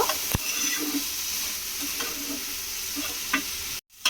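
A potato mixture with pepper powder is stirred in a pan over low heat, giving steady close scraping and a soft sizzle for about four seconds, then a brief cut to silence near the end.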